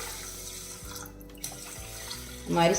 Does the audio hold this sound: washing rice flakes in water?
yes